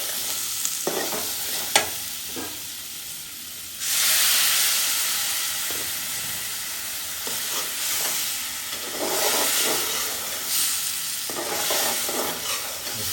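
Ginger garlic paste and spices sizzling in a pan for a Pabda fish curry, a steady frying hiss that swells louder as the mixture is stirred, with occasional scraping clinks from the spoon.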